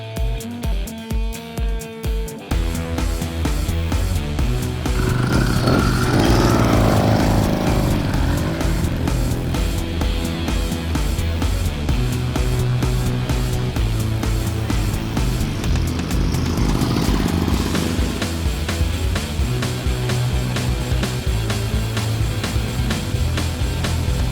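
A bicycle fitted with a small combustion engine runs at high revs, a loud, buzzing two-stroke drone that rises and falls steadily after a brief sputtering start.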